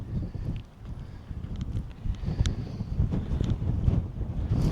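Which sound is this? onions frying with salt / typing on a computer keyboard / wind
wind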